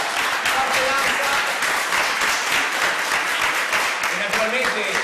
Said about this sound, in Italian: E un applauso.